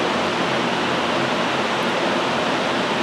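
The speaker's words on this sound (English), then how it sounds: "you should hear hissing coming from the stepper motors" The stepper motors of a foam cutting machine run under Mach 3 control, producing a steady, unbroken broadband hiss at moderate level with no other sounds.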